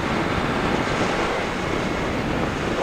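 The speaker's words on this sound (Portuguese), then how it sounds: "e o mar tá aqui, ó, menos de 10 metros." Sea waves wash in steadily on a shore a few metres away, a continuous broadband roar of surf with wind buffeting the microphone throughout and no voices.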